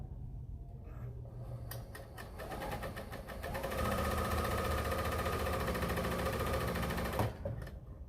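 A sewing machine running a chain stitch, starting with a few slow stitches and then speeding into a loud, close, even mechanical whir before stopping abruptly.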